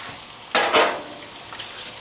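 Bacon fries on a griddle, with two short bursts of crackling sizzle standing out against a low, steady background hiss.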